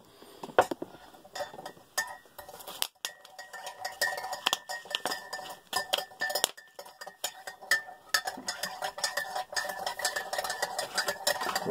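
A spoon stirs MRE pinto stew with ham inside its pouch, giving repeated clinking and scraping strokes with irregular rhythm, close and fairly clear, with no talk over it.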